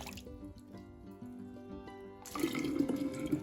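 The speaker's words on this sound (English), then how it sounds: "I'm pouring it into the jar" Homemade grape juice pours into a jar during bottling, a soft trickle at first that swells into a louder, steady splashing gush of liquid filling the glass for the last second or so.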